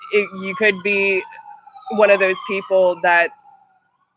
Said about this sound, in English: I'm so sorry about the sirens